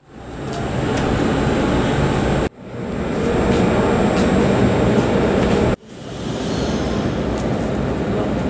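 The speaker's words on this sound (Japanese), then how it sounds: "ただいま5番乗り場の停車中の列車は36+3でございます。" A JR Kyushu 787 series '36+3' train stands at the Tosu station platform, giving off a steady, loud mechanical roar with a thin high whine. The sound runs in three continuous stretches, each cut off abruptly.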